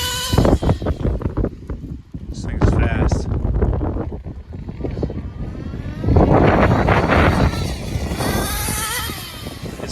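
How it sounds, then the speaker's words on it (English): Strong wind buffets the microphone with a loud, rumbling roar throughout, while a person talks over it during a night run of an HPI Racing RS4 3 Evo RC car. "It's really windy."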